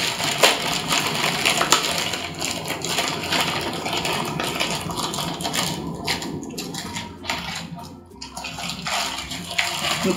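A retro My Little Pony Peachy toy is pulled free of its plastic packaging, with crinkling, crushing and rustling near the microphone, steady at first and then broken by brief pauses.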